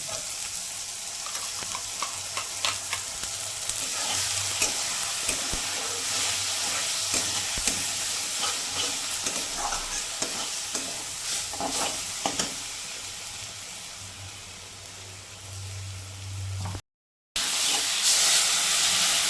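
Spice paste with chopped green chilli fries and is stirred in a pan for prawn kofta curry, giving a loud, steady close sizzle with scraping stirs throughout, then a brief cut before the hiss resumes.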